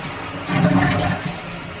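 A household toilet being repaired flushes close by, a short rushing swirl of water that swells and then settles into a steady refill.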